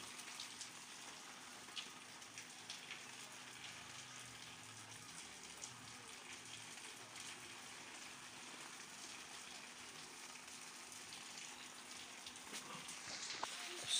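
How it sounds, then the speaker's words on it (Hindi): Light, steady rain falls on a mostly deserted market street during a storm with distant thunder and lightning, a continuous soft hiss of drops on surfaces that swells slightly near the end. "ये देखिए जी बारिश जो है ना अभी तक बरस रही है, रिम जिम लगी हुई है अभी तक भी"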